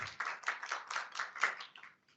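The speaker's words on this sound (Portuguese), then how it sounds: "Aplausos aí para o Felipe." A small meetup audience claps for a presenter, a short, fairly close burst of hand claps with a rapid irregular rhythm that fades out after about two seconds.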